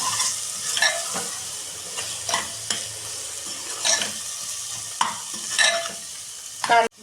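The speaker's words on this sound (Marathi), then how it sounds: "आणि थोडासा गरम मसाला आता हे चांगलं मिक्स करून घ्यायचं आपल्याला" Vegetables and onion frying with turmeric and garam masala in a pan for a mixed bhogi bhaji, stirred with a spoon in several scraping strokes over a steady close sizzle, no voices.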